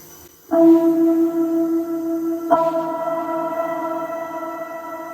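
Sustained synth notes through a Digitech shimmer reverb on its Halo preset swell in with a bright shimmering reverb tail, then a second chord strikes and rings on, thick with airy high overtones.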